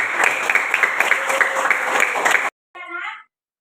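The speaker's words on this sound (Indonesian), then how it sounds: "berikan aplaus dulu untuk kita semua" Classroom applause from a group of students, a dense burst of clapping lasting a couple of seconds, then a short spoken phrase after it stops.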